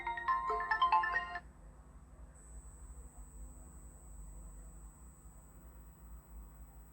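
A phone ringtone for an incoming call plays as a short melodic burst of bright electronic tones for just over a second, then stops, leaving a quiet room hum and a faint steady whine.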